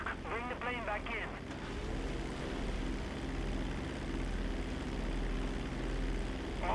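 Propeller plane engine in Grand Theft Auto V, a steady droning hum running throughout at constant loudness, with a short burst of voices over it at the start.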